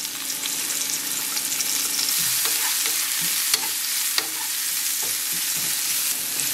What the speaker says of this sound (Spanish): Primero voy a poner la cebolla para que se sazone un poco